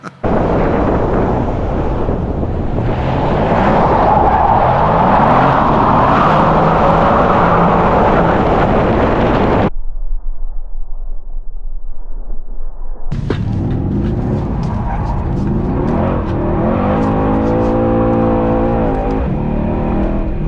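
Car drifting with engine screaming at high revs and tyres roaring through a long loud burst, a brief lull, then more revving and squealing, close and powerful.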